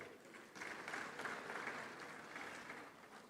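A conference audience at a bank's annual meetings breaks into applause, a soft, moderately distant wash of clapping that swells after a quiet start and holds steady for a few seconds.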